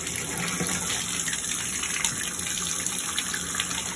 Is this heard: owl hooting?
no